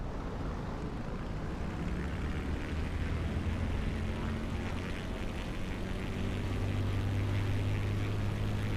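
An Optica propeller aircraft taking off from runway 21 in a flight simulator makes a steady, loud engine drone that holds throughout and swells slightly toward the end.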